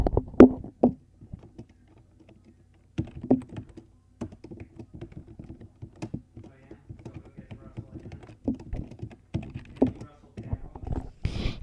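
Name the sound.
typing on a computer keyboard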